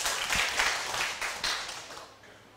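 Warm applause welcoming a lecturer at a class on Taiwan's legal status, a dense, fairly close burst of clapping that slowly fades over a couple of seconds.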